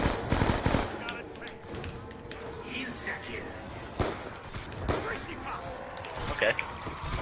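Rapid gunfire bursts from Call of Duty Zombies on the Die Rise map, loud and repeated with sharp cracks throughout, mixed with game effects while someone talks over it.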